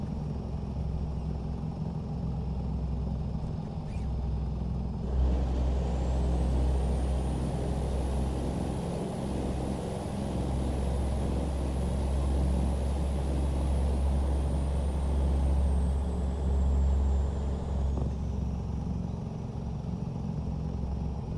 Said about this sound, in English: Sounds like my truck is purring.